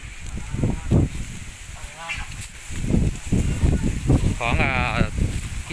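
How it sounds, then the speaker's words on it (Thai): Geese honk in short bursts among farmyard noise from a pen holding ducks, chickens and geese, with someone talking over them throughout. "มีทั้งเป็ดมีทั้งไก่มีทั้งห่านนะครับผมเต็มเลย"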